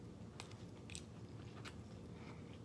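Crunchy chewing and biting of curry-dunked chicken feet eaten with yuca, a close steady mouth-level crunch and crackle running through the whole stretch with no talking.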